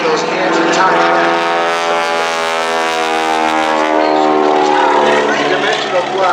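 A Stearman biplane with a 450 horsepower engine performs aerobatics at an air show, its loud radial-engine drone sustained and steady throughout, holding a strong rising and falling harmonic tone.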